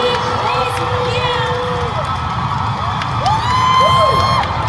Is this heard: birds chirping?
no